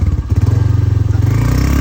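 Motorcycles ride along a sandy riverside road, their engines giving a close, loud, rapidly pulsing chug with rattling clatter over the top.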